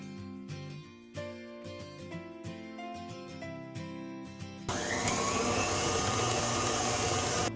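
An electric mixer beats cake batter with vanilla bean paste for a bourbon-walnut brown sugar cake, kicking in partway as a loud, steady whirring roar after a quieter tonal stretch.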